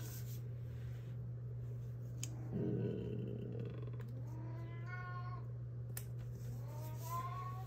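A house cat meows in several short calls near the mic, alongside paper rustling and faint background hum during a planner-decorating session.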